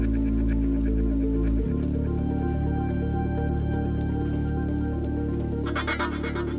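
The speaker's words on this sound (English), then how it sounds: "The rain came back, gotcha." Rain effect layered into a house music track, a steady wash of patter and drips running alongside sustained tones and a pulsing beat, the mix brightening near the end.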